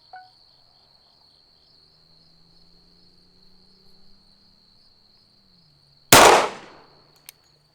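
A single loud .45 ACP handgun shot fired at a ballistic gel target dressed in winter clothing cracks sharply and close, its report trailing off quickly, followed by a small metallic clink over a steady background insect drone.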